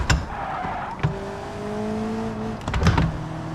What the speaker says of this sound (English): Now I'm going to shift down to 2nd gear in succession.